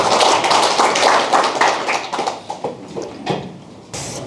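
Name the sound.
audience applause welcoming the lecturer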